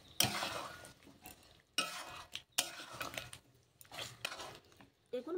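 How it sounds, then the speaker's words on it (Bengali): Fried chicken pieces are stirred into cooked burnt masala in a pan, with a spoon scraping and clattering in several separate bursts over a faint sizzle, close and fairly loud, with short quiet gaps between strokes. "এই ভাজা মাংসটা আমি দিয়ে দিচ্ছি মশলার সঙ্গে"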